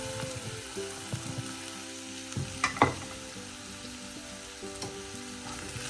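Finely chopped onions fry in a pan for a chicken liver pepper fry, a steady close sizzle broken by a few sharp clinks and scrapes of stirring.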